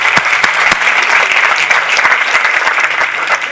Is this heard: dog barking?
no